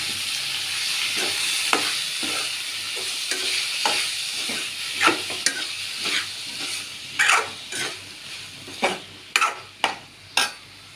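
Onions frying for a green gram rasam sizzle in a pan while a spoon stirs them. The scrapes grow into a rhythmic series of distinct strokes, close and clear over a steady hiss.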